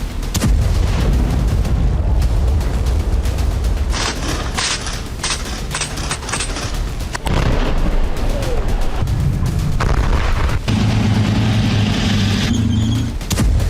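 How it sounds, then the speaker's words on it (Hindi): Air strike explosions in southern Lebanon, heard as loud, repeated booms and blasts that run through dense, rumbling background noise, with some cracks and fluctuating intensity throughout. "जहां इजरायल ने एयर अटैक कर हिजबुल्लाह के सबसे बड़े रॉकेट लॉन्च सेंटर को तबाह करने का दावा किया"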